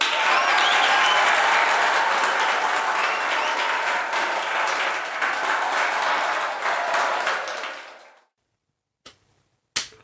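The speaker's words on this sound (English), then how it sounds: "Insert applause here." Applause sound effect inserted into a podcast: a dense, loud burst of clapping from a crowd that holds steady for about eight seconds, then cuts off abruptly into silence.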